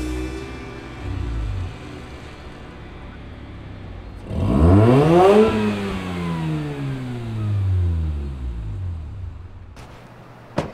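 Mitsubishi Eclipse with a low-compression built engine idling, then revving hard with rising and falling engine pitch through several sweeps, loud and close, settling back toward idle before a sharp click at the end.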